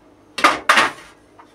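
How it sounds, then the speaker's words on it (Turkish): A frying pan set down on a kitchen stovetop, giving two close, sharp metallic knocks in quick succession with a brief ring-out and a faint tap after, no talk. "Tavamızı ocağa koyduk."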